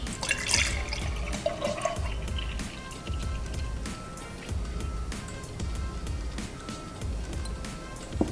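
Liquid poured steadily into a container on a kitchen food scale to measure about 240 milliliters, a continuous close trickle and splash that runs for several seconds over a low hum.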